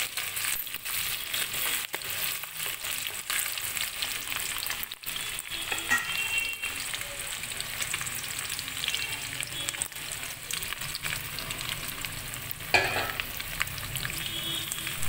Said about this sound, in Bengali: তো পেঁয়াজটা একটু ভেজে নিয়ে এবার আরেকটু ডিমটা আর মটরটা দিয়ে নাড়াচাড়া করে নিয়ে চাউমিনটা দিয়ে দেবো